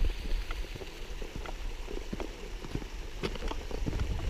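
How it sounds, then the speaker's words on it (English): Water flows steadily over rocks in Upper Salt Creek, a canyon creek in Canyonlands National Park, a constant broad rushing with small splashes and gurgles throughout, close by and with no talk. "Flowing water is always a good sound."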